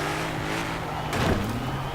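A pickup truck engine in Forza Horizon 4 holds a steady drone, then revs up with a sharp rise in pitch as it accelerates, fairly close and without talk.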